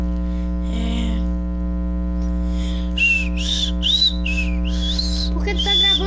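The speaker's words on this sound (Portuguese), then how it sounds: "Por que tu tá gravando assobiando?" Whistled melody of short rising and falling tones from a person recording while playing Minecraft bedwars, heard close over a constant loud electrical mains hum.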